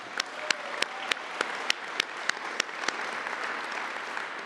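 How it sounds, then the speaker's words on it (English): A round of applause at a community dedication ceremony for a crisis receiving center, a single nearby person clapping in a steady rhythm that slows and fades out, over soft scattered clapping from a small audience. "So can you give her another round of applause, please?"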